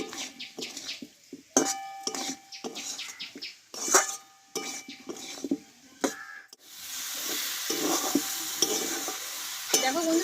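Spices being sautéed in a pan for a vegetarian jackfruit curry: sharp metal spoon scrapes and clinks against the pan in a quick irregular rhythm, giving way to a steady close hiss of sizzling oil near the end.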